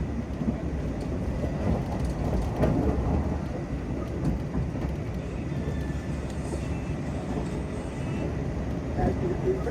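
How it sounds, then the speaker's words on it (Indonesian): The Argo Wilis train passes straight through Solo Jebres station, a steady loud rumble of wheels and carriages that fills the whole stretch with no clear break. "Sekarang ini kereta api Argo Wilis melintas langsung di stasiun Solo Jebres"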